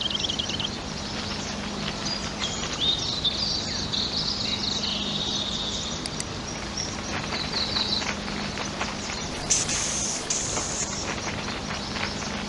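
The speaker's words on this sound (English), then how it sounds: "That's Warren the Warbler." Warbler song from the PC game Oscar the Balloonist (1998): bright, chirping trills come and go over a steady ambient hum, moderately clear and with no talk.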